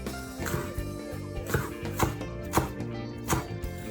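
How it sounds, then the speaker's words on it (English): A knife chops spring onions on a kitchen board, a handful of irregular, crisp chops standing out over steady background music. "I also chop a couple of spring onions that I will need later"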